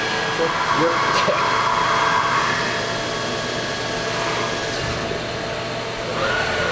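A vacuum extraction system pulls chips away from a CNC machine cutting knife parts from sheet stock, a loud steady roaring drone with machining whine, while a person speaks over it.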